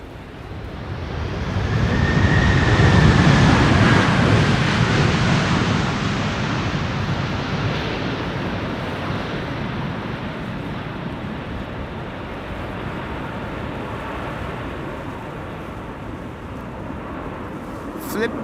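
An airliner landing at Amsterdam Schiphol Airport deploys its thrust reversers with a broad, rushing roar that swells over a few seconds and then slowly fades while staying loud, heard from outside at a distance.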